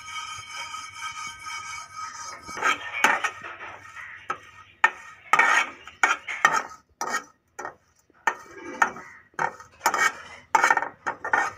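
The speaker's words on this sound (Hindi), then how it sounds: "बादाम जो हैं बिल्कुल स्लाइस में काटे हुए हैं और इनको आपने ड्राई पैन के अंदर रोस्ट कर लेना है" Sliced almonds stirred and roasted in a dry pan over low heat: repeated scraping, clinking and knocks of a utensil against cookware, irregular and close, with a faint background hum.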